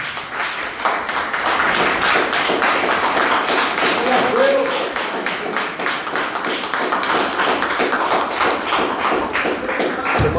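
Congregation clapping hands in praise during a church service, steady dense applause-like clapping filling the whole stretch at fairly loud level.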